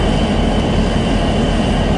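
Freight train moving through Hobson Yard in Lincoln, Nebraska, with yard locomotives and a westbound empty coal train, a steady loud rumble of wheels and cars with no talking.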